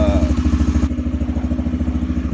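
A brand-new 2021 Coolster 150cc ATV engine runs loud and close with a steady, rapid putter, rising briefly as the throttle opens and then settling back.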